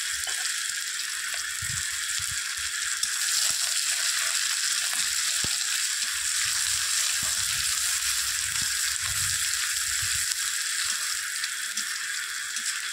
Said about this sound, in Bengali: তেজপাতা, শুকনো লঙ্কা আর পাঁচফোড়ন সম্বার দিলাম, তারপর দিয়ে দিলাম পেঁয়াজ কুচি।